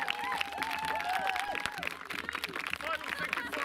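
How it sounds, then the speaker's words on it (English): An audience gives a final round of applause, scattered clapping and cheers mixed with lively crowd chatter, fairly distant and moderate in level, with people talking throughout. "give yourselves one final huge round of applause"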